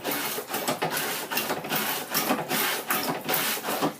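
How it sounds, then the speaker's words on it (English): Hand pump of a bottle washer squirting sanitizer into a home brew bottle, repeated quick rhythmic pumping pushes with a hissing spray, close and steady. "all you do is you put your bottle on top, you give it a couple of squirts"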